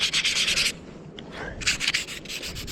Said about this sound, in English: So we're just going to go on roughen this up. It's 180 grit sandpaper.